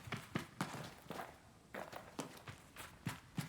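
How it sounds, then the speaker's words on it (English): Footsteps from the Sable video game demo, a regular series of soft crunchy steps at a walking pace over a faint ambient bed, close and alone without talk. "I think the footsteps are okay."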